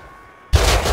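Gunfire in the video game Rust, a sudden loud burst of shots that cuts in after a quiet half second and keeps rattling to the end.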